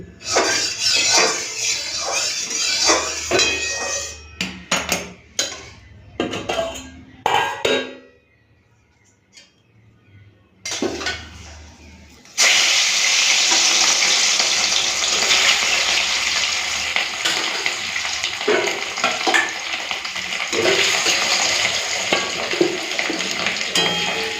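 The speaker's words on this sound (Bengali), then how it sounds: "তো তেলটা গরম হয়ে গেছে মাছটাকে ভেজে নিই" Rohu fish frying in hot oil in a home kitchen: scattered crackles and a short quiet gap, then a loud, continuous close-up sizzle and hiss that runs to the end.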